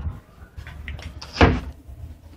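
A drawer sliding shut in a cruise ship balcony stateroom on the Norwegian Sky, with soft rustling and sliding followed by one firm close-range thud.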